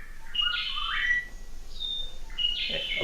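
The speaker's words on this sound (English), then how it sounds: "That's a whippoorwill." A whippoorwill call played from a bird-call CD: a few clear, whistled notes repeated in short bursts, fairly close and distinct against a quiet background.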